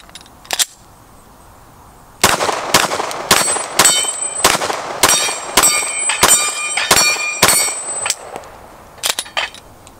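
A Glock 34 pistol fitted with a K Armory ported barrel fires 124-grain NATO Winchester White Box rounds: two early shots, then a rapid string of about a dozen loud, sharp cracks with ringing metallic echoes, no talking.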